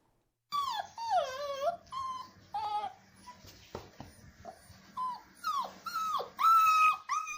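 Rescued abandoned puppies, part of a litter of sixteen found on a highway near Ufa, whimpering and yelping in a rapid series of high, wavering cries, close and clear.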